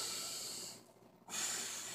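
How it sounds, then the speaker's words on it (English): A deep, forceful exhale blown out while holding a kettlebell in a flat-back carry position, a steady breathy rush that briefly pauses and then resumes louder, close and alone. "take a deep breath in, and blow"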